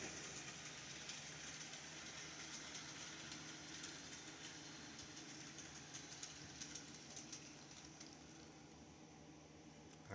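An HO scale model CSX ET44AC Tier 4 GEVO locomotive runs along its track with a steady, low mechanical whir and faint rail clatter, continuous and fairly quiet throughout with no talking.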